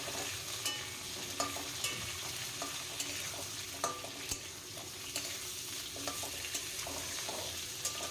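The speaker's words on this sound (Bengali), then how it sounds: "এই কুমড়োটাকে আলুর সঙ্গে ভেজে নিতে হবে" Diced pumpkin frying with potatoes in a pan for a vegetarian kumro-alu dish, a steady sizzle broken by repeated scraping stirs of a spatula against the pan, close and moderately quiet, with no talking.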